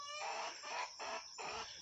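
A Brahma hen clucking softly in a backyard flock, a few short rhythmic clucks in quick succession, close but quiet.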